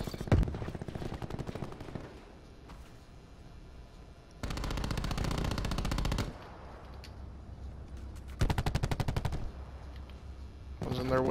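Bursts of automatic gunfire in Call of Duty Black Ops 4 multiplayer Control mode, with rapid-fire volleys around the start, middle and near the end over a steady game soundscape.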